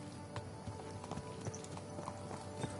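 Horse hooves clop at a steady walking rhythm in Kingdom Come Deliverance 2, a quiet run of distinct, evenly spaced hoofbeats with no talking.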